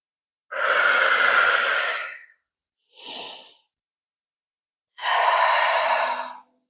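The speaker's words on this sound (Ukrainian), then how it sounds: "Видих, видих, видих, видих, вдих." Deep, controlled breaths during a chest-mobility fitness exercise, heard up close: a long forceful exhale, a shorter quick inhale, then another long exhale, with silence between them.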